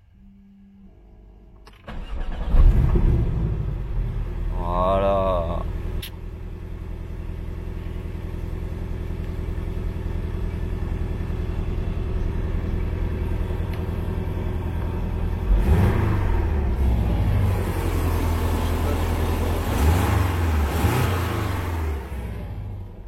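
A Porsche 718 Cayman 300 hp with its sport exhaust not activated cranks and fires up loudly after a quiet start, blips once, then settles into a steady idle before two more throttle revs near the end; a voice speaks briefly.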